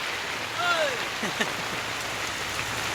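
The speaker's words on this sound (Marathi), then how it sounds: "बाहेर येऊन पाऊस लागला" Steady rain patters on a surface, a soft continuous hiss with a few brief, faint sounds over it.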